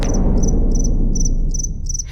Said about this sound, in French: Lincoln, le grillon.